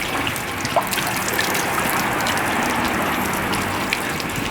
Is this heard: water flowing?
yes